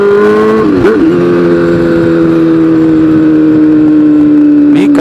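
Honda Hornet 600 motorcycle engine held at steady high revs, a loud close whine with a quick blip near the start and another rise at the end, no talking.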